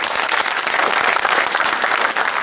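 Audience at an Azerbaijani comedy show claps in a dense, steady burst of applause, close and loud throughout with no voices.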